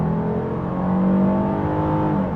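A 2026 Kia Carnival V6 accelerating at full throttle, a steady, loud engine drone heard from inside the cabin with a gradually rising pitch, continuous and without speech.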